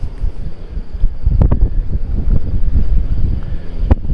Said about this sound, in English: the wind's blowing rather bad